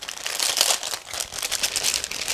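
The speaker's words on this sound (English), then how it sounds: "this is a resealable plastic bag, so it will be quick and easy to open" A resealable plastic bag holding the plastic sprues of a Master Box 1/35 German soldier figure kit is pulled open, a steady close-up run of crinkling and rustling plastic lasting a couple of seconds with no voices.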